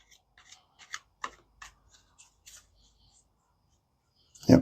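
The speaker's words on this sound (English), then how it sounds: "two more shuffles here, just real quick." Tarot cards are shuffled by hand in a quick series of soft riffling, rustling bursts, close and fairly quiet, ending with a louder thump as the deck is squared.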